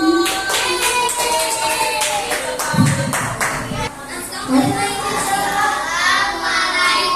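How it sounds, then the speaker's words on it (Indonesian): A classroom of pupils claps together after a group presentation, a steady patter of hands with children's chatter and voices mixed in throughout. "Tepuk tangan dong."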